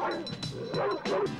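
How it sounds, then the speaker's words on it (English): Several Doberman dogs bark in a junkyard in a 1972 film, a rapid, overlapping run of sharp barks and yelps mixed with whimpering, loud and close with no pause between them. "How many of these damn dogs are in this junkyard?"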